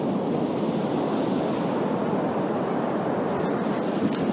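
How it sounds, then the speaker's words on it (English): Ocean waves rush up onto the rocky shore at McClures Beach on the Point Reyes Peninsula, California. It is a loud, close, continuous wash of surf with wind noise over the microphone, and no talk. "I gotta wait for that rush of water to go down now."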